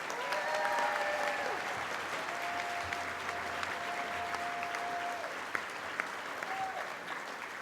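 An audience at a health professions white coat ceremony applauds students, a steady, moderately distant wash of clapping with occasional sharper individual claps and faint voices and tones beneath it.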